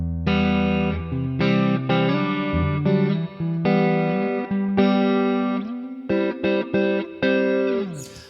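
Electric guitar recorded straight from the output of a Boss Katana 100 MkII solid-state amp, with reverb set halfway on the green setting. Rich sustained chords and notes ring out, loud and continuous, with brief pauses between phrases.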